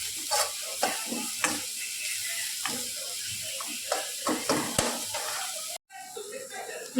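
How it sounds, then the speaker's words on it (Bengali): Onion and chopped green chili frying in oil, sizzling steadily close by while being stirred with repeated scraping strokes, with a brief dropout near the end. "আমি পেঁয়াজটাও একটু নাড়াচাড়া করে আবার একটু ভাজা ভাজা হয়ে গেলে আমি এটা নামিয়ে নেব"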